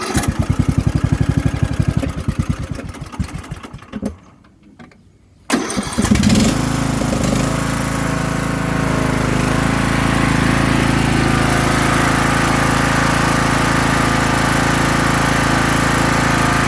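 A Craftsman LT3000 lawn tractor with a six-speed, non-hydrostatic transmission cranks briefly, falls quiet for a moment, then its engine catches and settles into a loud, steady idle that runs on without talk.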